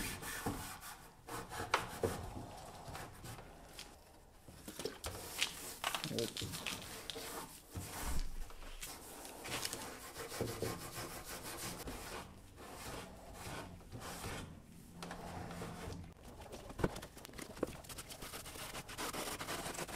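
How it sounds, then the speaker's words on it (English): Carbide scraper scraping stubborn paint off the wooden legs of a painted chest of drawers, an uneven series of close rasping, rubbing strokes with brief pauses between them. "I did go around with my carbide scraper on the legs and a few areas where the paint just wouldn't pop off"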